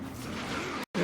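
Tires of a Drift Maloo skidding while drifting in a video game, a sustained squeal over engine noise that cuts out briefly and then resumes loudly.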